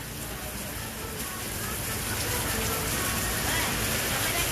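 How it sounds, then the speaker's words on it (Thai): Steady broadband hiss of rain falling outside a Shell petrol station shop, continuous and fairly loud throughout, with a faint murmur of voices underneath. "ฝนมันตกนะครับ"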